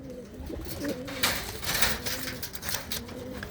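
Pigeons coo in low, repeated rolling calls throughout a keeper's collection, with a steady background hum and a few sharper bursts of noise rising over the calls.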